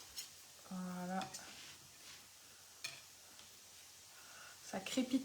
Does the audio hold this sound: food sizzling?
yes